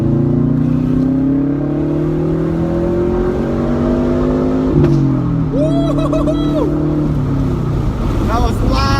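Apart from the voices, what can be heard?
2012 Subaru WRX hatchback engine revving, windows down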